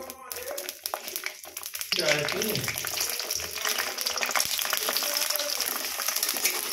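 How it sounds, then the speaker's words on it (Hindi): Green chillies fry in homemade pure mustard oil in a kadhai, a steady loud sizzle and crackle that builds after a softer start and runs on continuously. "पहले मिर्ची को अच्छे से भून लेंगे, फिर लहसुन को"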